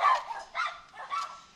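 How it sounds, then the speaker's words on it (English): A neighbour's dog barks three times in an even rhythm, the sharp yaps sounding somewhat distant and moderately loud against a quiet background. "And there's the nosy dog."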